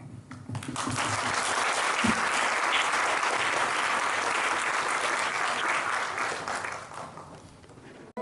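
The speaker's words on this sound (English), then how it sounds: "Please welcome on stage, with a warm round of applause, our dear SSC children" Audience applause at a Guru Poornima celebration in Auckland, New Zealand, as children come on stage for a skit; loud, dense, sustained clapping that fades slightly near the end.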